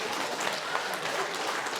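Wedding guests clap at a Kazakh celebration, a dense, even patter of applause held at moderate volume for a couple of seconds, with no one speaking.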